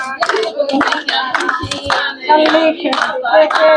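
Hand clapping in a lively rhythm at a family giddha dance celebration, sharp bursts of claps repeating close by amid festive voices and singing.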